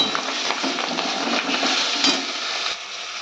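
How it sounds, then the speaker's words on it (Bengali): A pan of grated ginger, cumin powder and salt is stirred with a spoon, giving a close, continuous frying hiss with light scraping and a few small knocks. It stays fairly loud, with no voices. "এবারে আমি এটার মধ্যে সব দিয়ে দেবো, দিয়ে ভালো করে নাড়াচাড়া করে তারপরে জল দেব"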